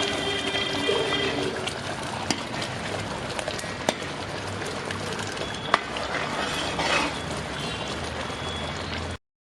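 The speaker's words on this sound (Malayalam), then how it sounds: "നമ്മുടെ 1ാം പാല്, അതായത് നല്ല കട്ടിയുള്ള പാല് ഇതിനകത്തേക്ക് ഒഴിച്ചു കൊടുക്കാം" Thick first coconut milk pours into parippu payasam, a Kerala lentil pudding cooking in a pot on low heat, making a steady, soft liquid gurgle and trickle with a few small clinks and no talk.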